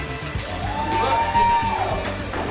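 A home crowd at a men's college basketball tournament game roars and whoops in a loud, dense wash, with shouts and a rising whistle-like tone cutting through.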